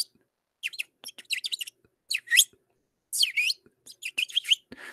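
Birds chirping in clear bursts of high, quick tweets separated by short silences, fairly close and alone with no other sounds.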